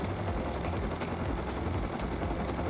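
A helicopter in a first-person shooter video game gives a steady, continuous rotor drone. It holds at an even, moderate level throughout, with no talking.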